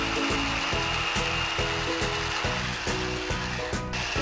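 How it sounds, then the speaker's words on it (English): An electric mixer whirs steadily up close, its motor pulsing in a regular rhythm as it whips cream for frosting until stiff; no voices. "Add some rum if you like and whip until stiff."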